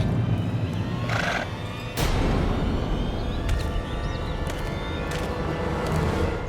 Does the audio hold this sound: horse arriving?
yes